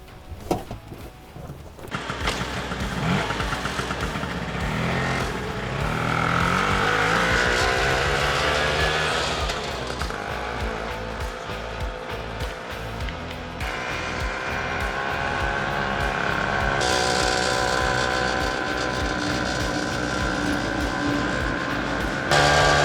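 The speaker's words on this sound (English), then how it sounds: "So there you have it, the world famous tuk-tuk, a real vehicle for the people" A tuk-tuk's small engine runs steadily during a ride around a museum paddock, a loud, close drone that shifts in pitch as it speeds up and slows, with no talk.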